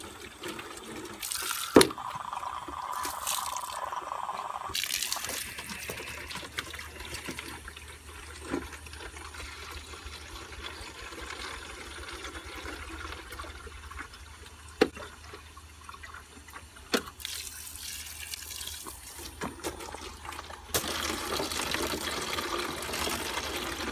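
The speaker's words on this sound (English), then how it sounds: "And then just kind of rinse the inside and dump it out on both of them." Water splashes and drains as chick waterers are rinsed out and dumped, with a few bursts of pouring and trickling plus occasional knocks of plastic, heard close with no talking.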